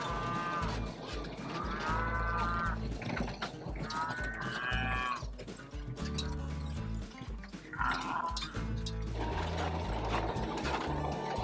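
Calves on a small family cattle farm moo repeatedly in long, drawn-out calls at close to mid distance, with a dog also heard over a busy outdoor background.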